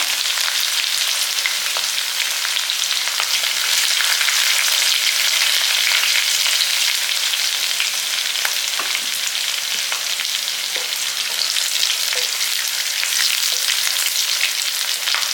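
Mustard seeds, fenugreek, crushed garlic and two green chillies frying in hot oil, a steady loud crackling sizzle with sharp pops throughout, no voices.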